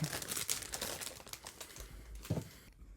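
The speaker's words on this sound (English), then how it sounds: "Now, I need to put all this rubbish away" Rubbish being crumpled and cleared away, with crinkly rustling bursts and a few sharp crackles close by, then a quiet pause at the end.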